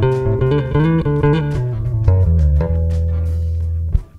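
A bass guitar played by someone about a month into learning: a short run of loud, deep plucked notes in a steady rhythm, then one long held low note that fades out, heard alone.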